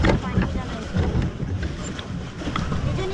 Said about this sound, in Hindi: और यहाँ पे जो बोटिंग का जो आनंद है वो लिया जा रहा है